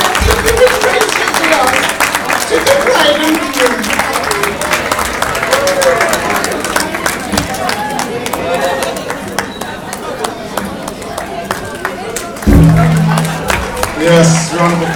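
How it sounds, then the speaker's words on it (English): Guests at a wedding break into a round of applause, many hands clapping in a busy, uneven patter with chatter and voices mixed in, swelling louder again near the end. "round of applause"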